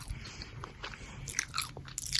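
Gum chewed up close in the mouth for a whisper ramble, with wet, sticky smacks and small clicks repeating in an uneven rhythm, intimate and close to the microphone, no voice.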